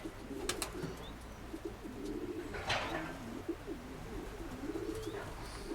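Racing pigeons coo repeatedly in low, rolling calls over steady background noise, with a brief brighter rustle midway.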